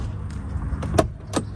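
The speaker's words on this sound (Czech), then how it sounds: "Dvere sa otvárajú, že stlačíte toto." A Bentley Arnage T door opened by pressing its handle: a faint low rumble, then two sharp, brief mechanical clicks close by as the latch releases, with no talking.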